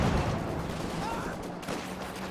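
Maxim machine gun and ZiS field gun fire in a Company of Heroes 2 battle, a dense, continuous roar of gunfire and blasts held at a steady, loud level throughout.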